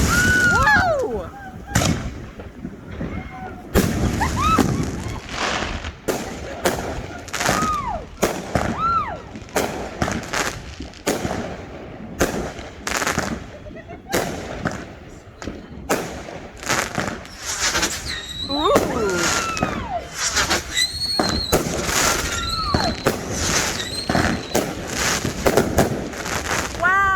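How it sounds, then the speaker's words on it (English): Fireworks burst repeatedly overhead during a show, loud close booms and sharp cracks in an irregular barrage, with whistling rockets and crackle between blasts, and people talk and cheer throughout. "There's fireworks all around us."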